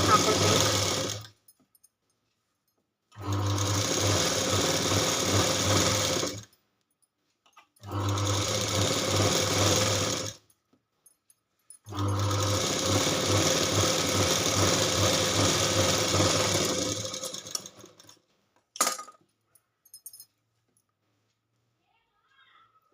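An electric sewing machine runs double stitching along a garment seam in four separate bursts of fast, even whirring, each a few seconds long and split by quiet pauses, with a few faint clicks at the end.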